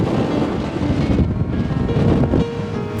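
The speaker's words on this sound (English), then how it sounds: "And it is incredibly windy." Strong wind gusting across a rocky hilltop summit, loud buffeting roar blasting the microphone in continuous rumbling waves with no voices.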